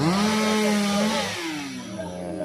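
A chainsaw whines loudly up close, its pitch rising and falling as the engine revs and bites into the cut.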